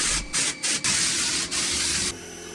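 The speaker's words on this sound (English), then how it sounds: "we are using a mortar sprayer" A mortar sprayer blasts cement onto basement walls, giving loud, close, rushing hiss in several bursts with brief gaps, then tailing off quieter at the end.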